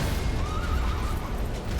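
A horse neighs in the Elden Ring video game, a drawn-out whinny rising over dense, noisy battle sounds with heavy low rumble throughout.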